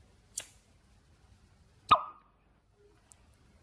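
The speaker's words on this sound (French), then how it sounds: "On peut entendre une légère détonation, signe que le gaz est bien du dihydrogène." A faint soft pop followed a moment later by a sharper, louder little pop as a flame meets hydrogen gas from electrolysis in a test tube, close by in an otherwise quiet room.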